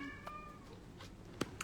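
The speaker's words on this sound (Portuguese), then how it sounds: "eu tenho um gato também, que é muito miento e hoje ele tá miando bastante" A pet cat meows indoors, a few short faint calls scattered over a quiet background, with one brief sharper cry near the end.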